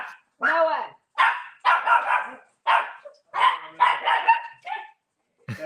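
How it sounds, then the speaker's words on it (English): A dog barks in sharp, repeated bursts close by, mixed with people chatting and laughing in a room during a casual podcast recording. "He's barking at Tank, and I don't know why"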